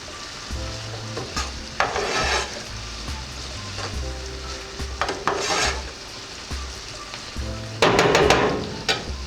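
Vegetables are stirred and fried in a pot for Haitian chiktay: sizzling oil hisses continuously, and bursts of scraping and clattering from a spoon against the metal come in several rhythmic rounds, close and clear, with no talking.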